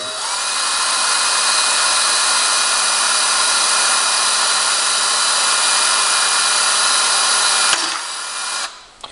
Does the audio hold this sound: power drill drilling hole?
yes